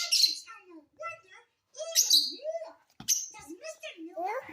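A pet lovebird chirps and chatters beside a rabbit, sharp squeaky tweets and warbling chatter in short bursts close to the microphone.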